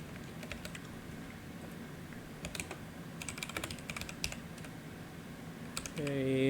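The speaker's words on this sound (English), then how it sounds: "What in the world is going on with my keyboard?" Computer keyboard typing with quick irregular clicks throughout, fairly close and steady, ending in a burst of louder noise near the end.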